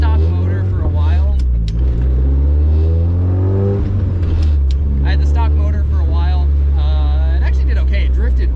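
A 1983 Toyota Corolla with its stock motor, driven hard: a close, loud rumbling engine whose pitch rises and falls through several revs and shifts, with a voice talking over it in places.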